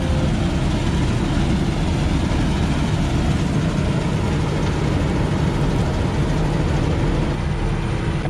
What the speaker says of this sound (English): The powerful engine driving this vehicle is running smooth.